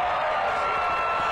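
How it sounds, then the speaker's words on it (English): A large crowd at a football game roars in a sustained, dense wall of cheering, loud and continuous with no individual voices standing out. "The crowd's going nuts."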